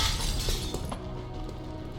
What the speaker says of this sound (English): So breaking that glass doesn't do anything because we're already out of concealment